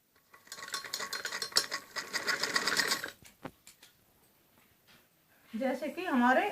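A sewing machine stitches around a kameez neckline, running in a fast rattling burst for about three seconds, then stopping with a few clicks before someone speaks.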